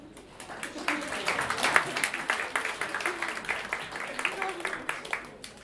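Steady audience applause at a jazz sextet concert, dense rapid clapping from many hands filling the whole stretch at an even level.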